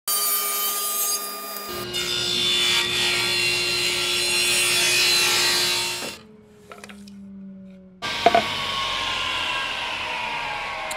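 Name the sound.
sawing wood on a 10 degree bevel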